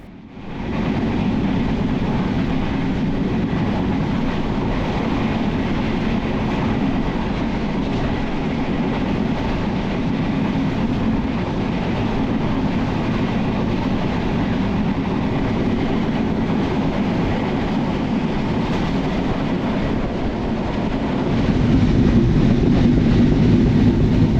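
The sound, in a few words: Banalata Express train running from Rajshahi to Dhaka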